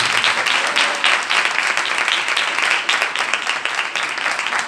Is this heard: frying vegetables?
no